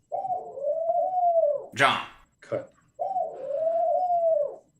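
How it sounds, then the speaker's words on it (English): A pigeon or dove gives a loud, close, drawn-out coo, then a second long coo after a short gap. Someone speaks a few words in between. "Fucking bird."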